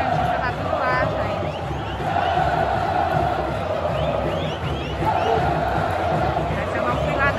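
Mixed crowd of fans at a Mirassol vs Santos football match, a steady loud roar of voices and chatter filling the stadium throughout with no clear break.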